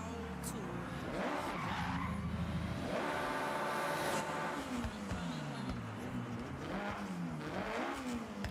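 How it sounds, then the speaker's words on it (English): Engine revving and tires skidding from a car in the Forza Horizon 6 racing game, rising and falling pitches with sustained squeals, loud and continuous, with a voice talking over parts of it. "Car sounds so good."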